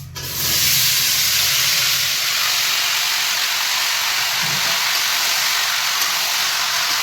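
Jamun fruit dropped into hot oil with tempered spices for a sweet spiced pickle sets off a loud, steady hissing sizzle that swells within the first second and holds evenly throughout.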